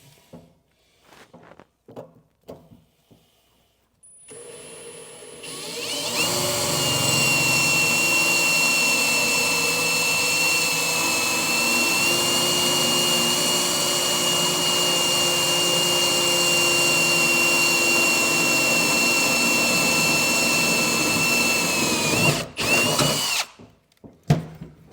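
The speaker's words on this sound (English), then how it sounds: "Now we're gonna move to drill the other hole" A power drill bores a hole for a generator slide-out, running as a loud, close, continuous high whine for about seventeen seconds before stopping abruptly, with a few faint knocks before and after.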